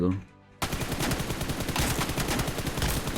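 Automatic gunfire from the mobile battle royale game BGMI: after a brief quiet start, rapid, dense bursts of shots run continuously, loud and close, with no clear talk.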